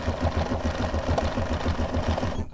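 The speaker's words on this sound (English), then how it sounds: "I have my machine threaded. I have the green go light." A BERNINA large freearm embroidery machine stitches at steady speed, a close, continuous rapid mechanical chatter with a regular pulsing rhythm.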